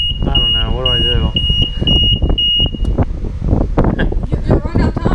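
A self-service car wash machine gives a steady series of high, evenly spaced beeps, about a dozen, while people talk loudly over wind noise.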